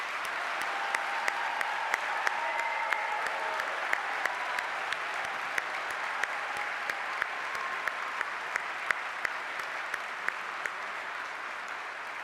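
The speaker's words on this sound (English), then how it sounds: "let's give them all another big round of applause" A seated audience at a School of Pharmacy ceremony gives a sustained round of applause, dense steady clapping with a few sharper individual claps standing out, lasting throughout.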